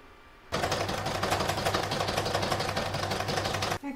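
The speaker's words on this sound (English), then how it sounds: "I've changed my thread to gold now to do the decorative top stitching along the joins." A sewing machine running decorative gold top stitching along patchwork joins on a crazy patch stocking, starting abruptly and humming with a fast, even needle chatter for about three seconds before stopping.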